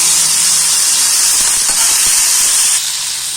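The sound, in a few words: onions and tomatoes sizzling while being sautéed in a pan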